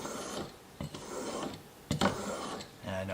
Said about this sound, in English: stone has like a finer, smoother feel to it to restore that edge on the chisel